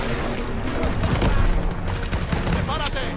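Dense battlefield gunfire in Call of Duty WWII, sustained overlapping rifle and machine-gun shots with booms, loud and continuous, with shouted voices mixed in.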